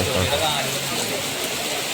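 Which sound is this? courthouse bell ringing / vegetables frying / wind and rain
wind and rain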